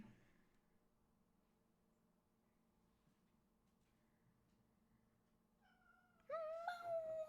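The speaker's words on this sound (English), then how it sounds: "My cat sounds so she sounds like she's never getting fed." A pet cat lets out a sudden loud, wavering meow near the end, following a long stretch of quiet room tone.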